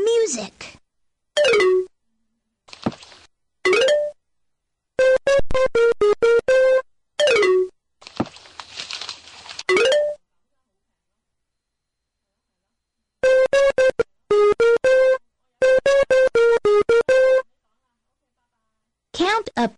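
Music from the Reader Rabbit Math counting game for ages 4-6: short bursts of bright, bouncy electronic jingles separated by silent gaps, repeating in clusters and sounding close and clear.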